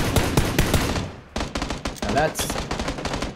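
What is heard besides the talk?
gunfire in the video game PUBG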